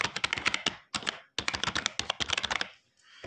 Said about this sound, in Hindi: let me type it again